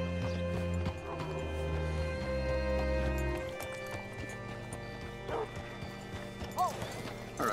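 Horse hooves clip-clop in the Red Dead Redemption 2 game, a steady rhythmic plodding with some music underneath, and a horse whinnies briefly toward the end.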